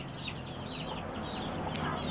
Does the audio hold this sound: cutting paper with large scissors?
no